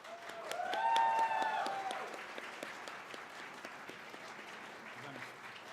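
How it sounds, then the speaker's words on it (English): An audience at the GameCon Awards Ceremony 2025 applauds supporters, a swell of clapping that peaks early, then thins to a lighter patter, with a few tonal cheers or whistles near the start. "So all of you, round of applause for those people."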